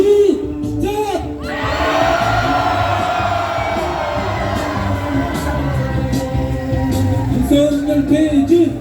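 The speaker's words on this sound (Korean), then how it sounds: "자, 함성 한번 해보겠습니다" Crowd at an evening candlelight protest rally outside a National Assembly member's office in Pocheon, shouting and cheering together in a sustained loud roar that swells after a brief opening call and holds steady, with some voices rising above it.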